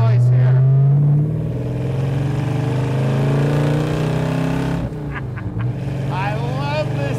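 A 1926 Ford Model T street rod's engine drones loudly while driving and downshifting, a deep steady rumble that shifts pitch partway through, followed by a short dip and a rising rev near the end.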